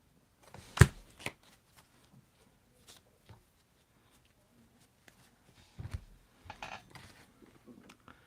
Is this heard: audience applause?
no